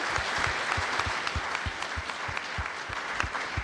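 Steady applause from an awards-ceremony audience for a golfer at the 2017 Rolex LPGA Awards, heard at moderate distance as a dense, even patter of many hands with some louder nearby claps.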